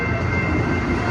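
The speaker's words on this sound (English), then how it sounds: "You know the train's going that slow" A train rolls slowly past close by, giving a continuous low rumble and grinding hum.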